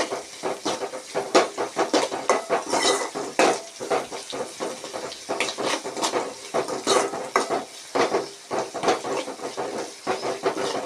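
Onions sautéing and being stirred in a pan for a Tamil horse gram rasam, with a steady loud sizzle and hiss broken by frequent scraping stirs and light clinks of utensil on pan, no voices.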